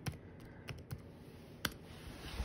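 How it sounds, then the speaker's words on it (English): Sparse keystrokes on a computer keyboard, a few scattered soft clicks with one sharper tap, heard close and alone against a quiet room hum. "I need to type npm start again."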